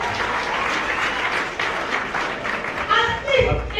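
An audience breaks into applause and clapping, a steady crackling wash of many hands that carries on as a voice starts talking over the final second.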